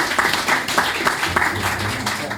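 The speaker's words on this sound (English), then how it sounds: "you all deserve a massive round of applause for doing it" Audience applause fills a live charity comedy night, a steady, dense crackle of many hands clapping close by with no break across the whole stretch.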